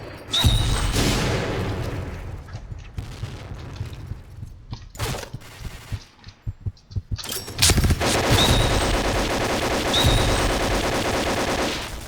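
AK-12 rifle fire in the shooter game Point Blank comes in loud, rapid automatic bursts with short pauses between strings of shots.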